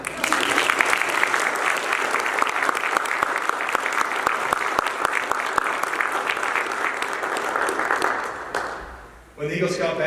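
An audience at an Eagle Scout ceremony breaks into sustained, even applause for about eight seconds, fairly close and dense, then fades to a brief lull before more sound resumes.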